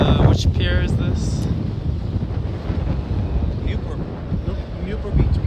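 Strong wind buffets the microphone at Newport Beach Pier, a steady low roar lasting the whole stretch with faint ocean surf beneath and a brief voice near the start.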